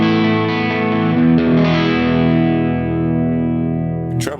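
An electric guitar runs through a boutique overdrive pedal model on a ToneX, giving one long sustained chord and a second struck chord that rings out loud and close, followed by a short pick noise at the end.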